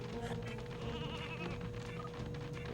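A sheep bleats in the video game Space Station Silicon Valley, a wavering cry over a steady electronic hum and game music, with no talk.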